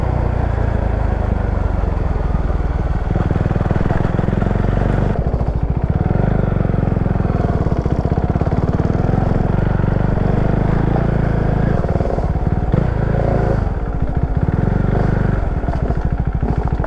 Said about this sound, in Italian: vedremo quanto questa moto sia da sterrato, sia scrambler